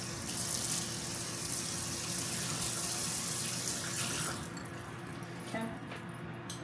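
A running kitchen tap rinses something, a steady close rush of water that eases off slightly near the end, with a few faint clinks.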